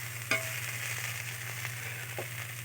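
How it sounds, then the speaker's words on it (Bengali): Ivy gourd, potato and onion fry steadily in a pan, a constant low sizzle with a couple of sharp spatula scrapes and clinks, close and alone without voices. "তো এখন আরেকটু ভাজবো, পেঁয়াজটাও ভাজা হয়ে যাবে আর এগুলোও আরেকটু ভাজা হবে"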